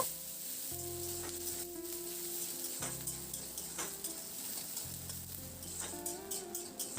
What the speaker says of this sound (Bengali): এবার পেঁয়াজটা দিয়ে মিনিট দুই তিনেকের জন্য নাড়াচাড়া করে একটু ভেজে নেব